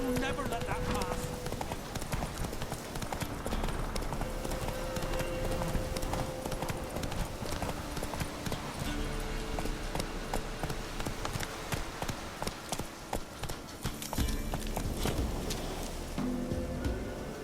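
The horse Roach trotting in The Witcher 3, a steady rhythmic clip-clop of hooves continuing throughout, with someone talking over parts of it.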